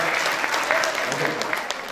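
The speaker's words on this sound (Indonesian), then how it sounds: "Tepuk tangan untuk kita semuanya" Applause from the crowd at a university engineering faculty Halal bi Halal gathering, dense and continuous clapping throughout, loud and close, with voices faintly mixed in.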